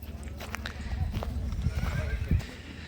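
A Kutch racing mare from Abdasa walking, with steady hoof clopping and a whinny close by, while someone talks over it outdoors.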